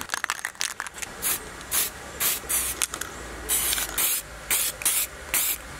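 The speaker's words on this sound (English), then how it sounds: "I'm going to use the silver to give it a couple of coats." Silver spray paint hissing from an aerosol can onto a brake caliper off a Mk1 Golf, in repeated short bursts with pauses between, close and fairly loud, no talk.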